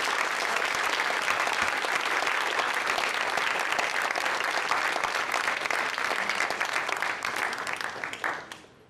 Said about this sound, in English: Thank you all of you for your supportive applause.